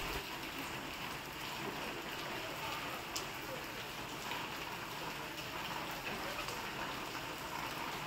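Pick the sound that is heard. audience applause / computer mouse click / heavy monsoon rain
heavy monsoon rain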